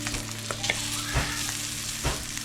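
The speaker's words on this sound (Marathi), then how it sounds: "फ्राय झाली आणि झाली आपली मच्छी फ्राय" Fish frying in a pan, a soft steady sizzle with occasional scraping and stirring strokes, fairly quiet and close.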